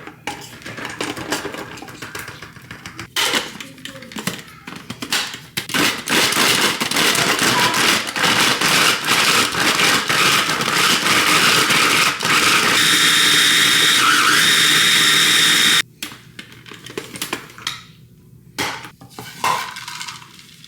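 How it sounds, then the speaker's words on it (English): A food processor grates chunks of Parmesan cheese with a loud, dense, rattling whir that runs steadily for about fifteen seconds, then stops and gives way to scattered clatter and handling noises. "Today I'm gonna grate the Parmesan cheese using a food processor."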